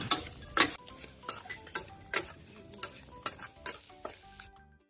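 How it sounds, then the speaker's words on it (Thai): Crispy pork is stir-fried in a pan with chili, sugar and seasoning powder, giving a steady sizzle broken by repeated rhythmic scraping and stirring strokes of a utensil against the pan, with no talk. "ผัดส่วนผสมให้เข้ากันเลยครับ"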